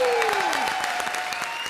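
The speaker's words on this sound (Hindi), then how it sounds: "जॉन के लिए एक बार जोरदार तालियां।" Loud studio audience clapping for a guest on a comedy show, brisk and sustained, with a descending musical sting sliding down underneath as the cheering applause continues.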